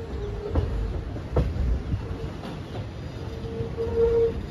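Koraput-Visakhapatnam InterCity Express under way, with a rumbling carriage, rhythmic clickety-clack of wheels over rail joints, and a thin squeal rising near the end, heard close from inside the train.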